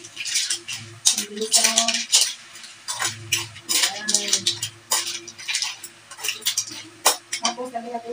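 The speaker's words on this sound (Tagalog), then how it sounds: "Haluin mo na natin guys." Utensils clink and scrape against a cooking pot as food is stirred during home cooking with a small child, with irregular metallic taps and rattles under the conversation of people talking nearby.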